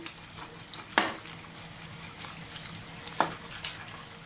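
Dishes and cutlery clink in a sink with running water, a couple of sharper clatters standing out over the steady wash.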